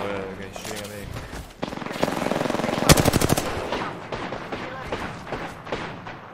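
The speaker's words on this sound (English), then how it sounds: "he's shooting at me" Rapid gunfire from Apex Legends rattles in close bursts, swelling into a dense volley midway before thinning into scattered shots, with someone talking over parts of it.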